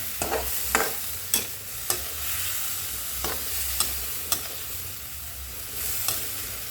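Chicken feet adobo with whole black peppercorns is stirred in a pan, giving a run of sharp utensil scrapes and clacks spaced through a low, steady sizzle, close and moderately quiet.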